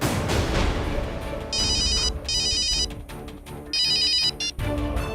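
An electronic mobile ringtone chirps in repeated bright bursts with short gaps between them, loud and close, after a brief low rumble at the start.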